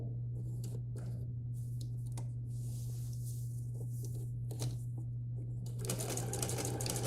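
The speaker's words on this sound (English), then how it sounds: "So I'm actually locking in this stitch as well, even though it's a triple stitch." A sewing machine running a triple stitch on a child's shirt, soft, fairly faint mechanical clicking and whirring over a constant low hum, ending in a louder burst of stitching.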